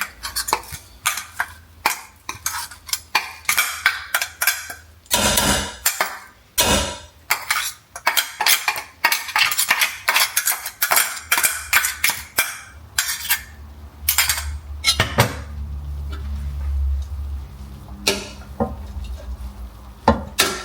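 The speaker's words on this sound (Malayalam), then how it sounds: "ഇതും കൂടെ ഒന്ന് ഇളക്കി പിടിപ്പിച്ച് കഴിഞ്ഞാൽ നമ്മുടെ കെയിൽ തോരൻ റെഡി." Kale thoran with ground coconut is stirred in a pan, with a busy run of close metallic scrapes, clinks and taps from a spoon against the pan, sometimes rapid and sometimes pausing.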